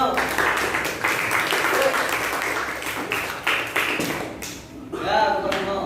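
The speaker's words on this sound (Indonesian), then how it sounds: "Beri tepuk tangan dulu untuk kelompok harimau." Classroom applause for a student group, dense clapping from many hands that stays loud for about four seconds and then thins out, with a voice briefly audible near the end.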